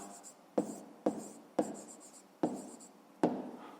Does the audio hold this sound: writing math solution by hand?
yes